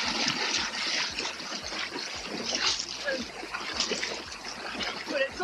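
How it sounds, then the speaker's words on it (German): Small waves on Lake Constance lap and splash steadily near the shore, a continuous close wash of water with brief spattering bursts and a low rumble underneath. "Und da kommen jetzt sogar Wellen da."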